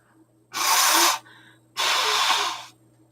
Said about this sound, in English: I keep sneezing in threes.